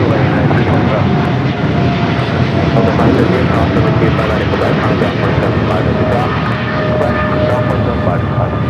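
Boeing 777 freighter rolling down runway 25 Right at LAX, a loud, continuous broadband engine roar that holds steady throughout with a faint tonal whine on top.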